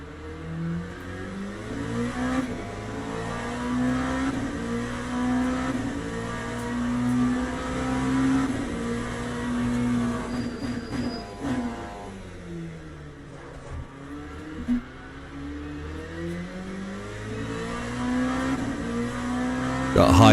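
Race car engine in the Le Mans Ultimate racing game as the back end fishtails, a steady loud droning engine tone with shifting pitch running throughout, rising slightly toward the end.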